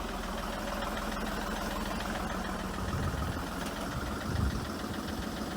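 A car engine idles steadily and close by. The clip has a continuous low rumble and a few faint clinks and knocks, with a slightly louder thump near the end.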